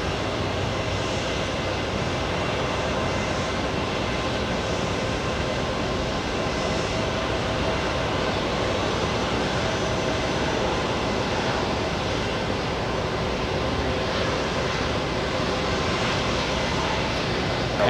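An Airbus A320neo touches down at JFK airport, producing a loud, continuous broadband roar of engines and rushing air that holds steady without pause from start to finish.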